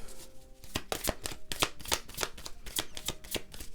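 Oracle cards shuffled by hand, a rapid series of crisp riffling bursts in an even rhythm, close and fairly quiet, with no talking.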